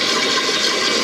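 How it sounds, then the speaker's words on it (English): A toilet being flushed at close range, a steady loud rush of water lasting the whole second with no talk over it. "Let's give it a flush."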